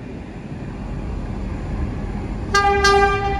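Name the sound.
diesel train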